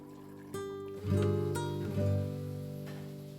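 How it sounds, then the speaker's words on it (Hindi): A little water pours into okra curry in a pan, a soft trickle and splash over a steady sizzle with clinks of a utensil. "थोड़ा सा मैं पानी डाल देती हूँ।"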